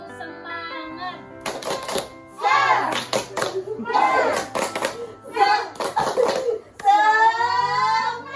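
A group of children performs a rhythmic 'tepuk semangat' clapping chant in a classroom lesson, with bursts of claps and sing-song voices in short patterned phrases, close and lively.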